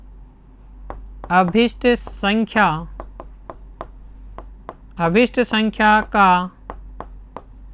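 Pen writing numbers by hand during a Class 10 maths lesson on linear equations, faint short scratching ticks scattered under and between a teacher's speech.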